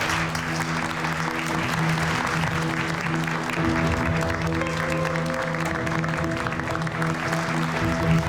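Sustained applause from an audience at a product launch gala, steady and full for several seconds with a low musical tone running underneath.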